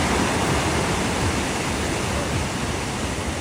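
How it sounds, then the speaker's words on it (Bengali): Sea waves roll in at night on Cox's Bazar beach under cold, windy conditions, a loud, dense and continuous wash of surf with no pauses. "সমুদ্রের সাউন্ডটা বেশি ভালো লাগে, সাউন্ডটা বেশ জোরে হয়, ভালো লাগে।"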